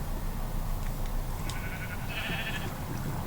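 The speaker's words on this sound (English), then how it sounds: "He got a little sheep farm over there." Sheep on a small Minecraft farm bleat in short, faint calls over a steady dense background, with no one talking.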